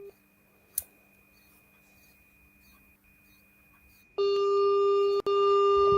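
A phone call's steady electronic ringing tone starts abruptly after a quiet stretch with a single click, then holds loud and continuous with one brief break.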